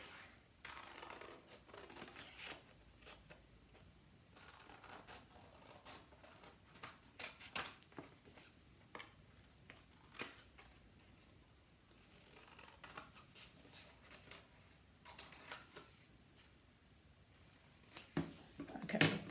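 Scissors cut out a paper template with soft, irregular snips and paper rustles spread across the stretch, quiet and close with no talking.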